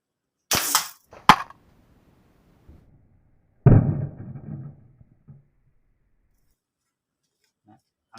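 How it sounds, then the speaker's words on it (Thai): A rubber-band fishing speargun crossbow fires with a sharp snapping release followed by a second crack, then a heavier thud with rattling as the dart strikes the target, brief loud bursts separated by silence. "ฟังเสียงยาง ฟังเสียงยางฟังเสียง ลูกดอกเข้ากระทำนะครับ"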